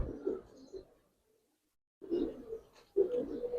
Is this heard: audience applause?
no